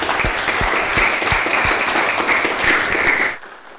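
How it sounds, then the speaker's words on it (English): An audience applauds after an academic lecture on building information modeling, with dense, sustained clapping that fills the room before cutting off abruptly near the end. "Let's give him a round of applause."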